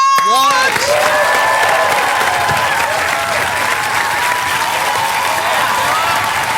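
Loud studio audience applause with cheering and whoops on a comedy panel show as a guest performer walks on, a sharp burst at the start settling into steady clapping with voices mixed in.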